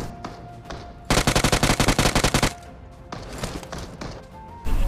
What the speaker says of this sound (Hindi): यह इधर साइड से ना फायरिंग का साउंड आ रहा था